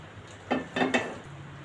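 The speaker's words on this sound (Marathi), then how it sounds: "आणि याच्यामध्ये एक काप ठेवायचे. अशा प्रकारे आपण पॅनमध्ये काप ठेवलेले आहेत." Raw banana slices set one by one into a pan with a little oil, giving three soft close clinks and taps on the metal pan with a faint background hum.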